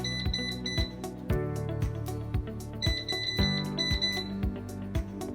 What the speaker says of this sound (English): Timer just went off on the corn dogs,